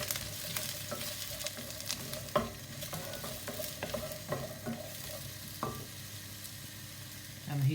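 Courgettes and prawns fry and sizzle steadily in a pan while being stirred, with soft scraping clatters and occasional sharper knocks of the utensil against the pan.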